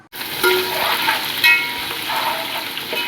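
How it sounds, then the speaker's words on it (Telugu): Mustard seeds, cumin, green chillies and garlic sizzle in hot oil as a tempering for a Konaseema jackfruit curry, a loud, steady crackling hiss that starts abruptly and runs throughout, with no talking. "ఇందులో ఆయిల్లో ఫ్రై అవ్వాలండి."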